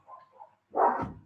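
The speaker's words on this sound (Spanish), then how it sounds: "que se escucha un perrito ladrando?" A small dog lets out a short whine and then a single sharp bark, faint and somewhat distant.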